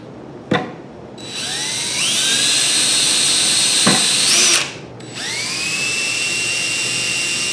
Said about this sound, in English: I'm just going to put one screw at the bottom and top of each piece.